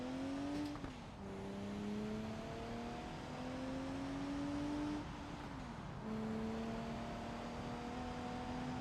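A car in a racing video game drones steadily as its engine climbs through the gears, with brief puffs from the blow-off valve at each shift. No voices are heard.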